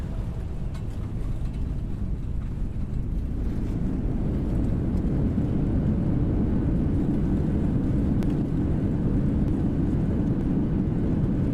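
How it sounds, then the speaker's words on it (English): A Boeing 737-800 airliner in the X-Plane 11 flight simulator produces a loud, continuous low engine roar that holds steady, with no talk over it. "I did not realize how loud the plane was for the other people in the house"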